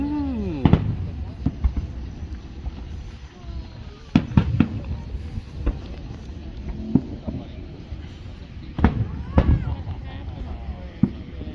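Fireworks bursting outdoors at night near trees, a series of sharp loud booms and crackles scattered irregularly across the clip, with faint voices between blasts.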